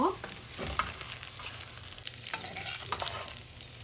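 Vegetable chow mein with chili flakes and pepper being stirred in a hot pan, with scraping spatula strokes and clicks over a steady sizzle, close and moderately loud.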